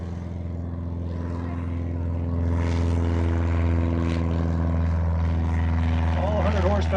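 A 100-horsepower Cessna 150 light airplane taking off in a short-takeoff competition in Valdez, Alaska: a steady propeller engine drone that swells slightly as it climbs away, with a voice talking over it near the end.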